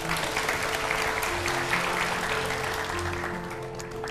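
Audience applause at a Vietnamese dating show, a steady dense clapping from a studio crowd held at even loudness throughout, with a low hum of music or murmur underneath.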